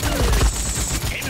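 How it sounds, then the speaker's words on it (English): Dense rapid gunfire from several enemy players in the hero shooter Paladins, a steady close barrage of overlapping shots filling the whole short stretch with a couple of heavier low thumps early on. "Yeah, their whole team is just shooting at me"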